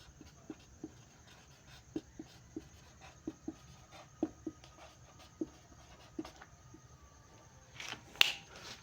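Chalk or marker strokes on a board during a physics class on measuring length with slide calipers, coming as short, regular taps and scratches, faint and close, with a louder scrape near the end and no talk.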